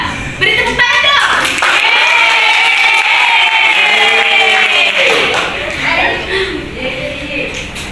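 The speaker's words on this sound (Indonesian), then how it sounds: "Beri tepuk tangan dong." Classroom group applause welcoming a teacher to present a lesson, with loud, steady clapping mixed with overlapping voices and shouts for most of the clip, easing slightly near the end.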